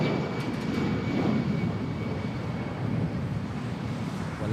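A Kuwaiti Airlines airliner takes off at Manila Airport, its engines a loud, steady roar that holds for the whole stretch with wind buffeting beneath.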